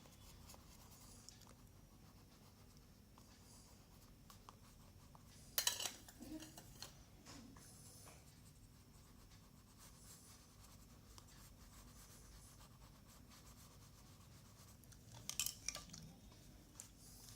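Colour pencil shading on paper while drawing a white swan, a faint steady scratching of the pencil tip with two short bursts of firmer strokes, no talk.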